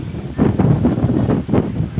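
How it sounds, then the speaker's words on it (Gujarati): Strong storm wind buffets the microphone in gusty, roaring bursts, loud and close, with no voices over it. "પવન બહુ આવે છે મિત્રો."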